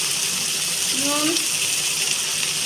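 Water poured into fish curry spices in a pan, a short steady gush over a hissing sizzle, close by, with a brief voiced sound partway through.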